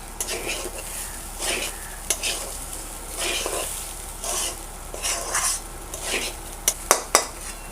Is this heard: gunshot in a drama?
no